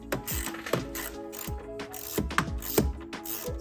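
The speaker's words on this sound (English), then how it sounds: "Take out those two 10mm bolts after you get the filter out." A ratchet wrench works out two 10mm bolts from the air intake housing of a Corolla hatchback, giving several quick bursts of close, crisp clicking with short pauses between strokes.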